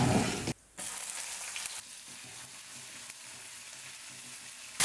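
Chopped green chillies frying in hot oil with urad dal and chana dal, a soft continuous sizzle with occasional stirring, briefly cut near the start, no voices.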